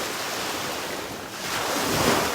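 Ocean waves roll onto a shore with clear water, a continuous rushing surf that swells louder toward the end, mixed with wind buffeting the microphone, and no voices.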